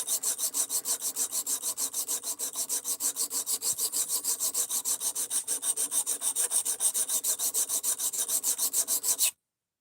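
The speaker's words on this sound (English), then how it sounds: "we are actually sharpening the knife now" Fast, steady rhythmic rasping of a knife being sharpened, dozens of even strokes close up at a constant pace, stopping abruptly, with no talking.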